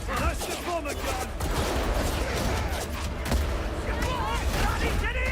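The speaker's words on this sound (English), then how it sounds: "That's the bomber gun!" A bomber's gun firing in War Thunder, a dense, continuous rattle of rapid shots and booms under an excited voice talking throughout.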